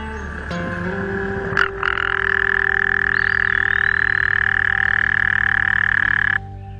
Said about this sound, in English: American toads have very noticeable calls.